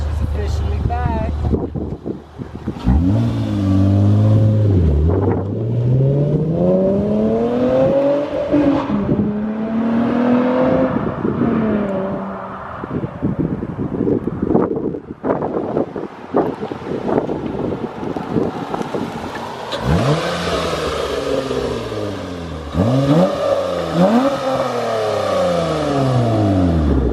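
A 2006 Acura TL with a newly replaced clutch master cylinder drives around the block, its engine revving up and easing off in repeated rising and falling sweeps, with wind buffeting and occasional voices in the cabin.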